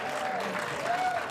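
A pickleball crowd at a professional doubles tournament applauding a missed trick shot: a short, steady burst of clapping from many spectators, with faint voices mixed in.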